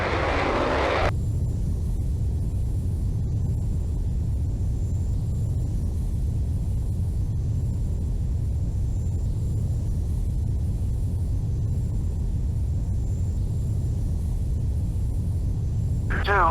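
A Eurofighter Typhoon jet rolling for takeoff in the Falcon 4 Allied Force flight simulator, a continuous loud engine roar with deep low rumble held steady throughout, alone without speech.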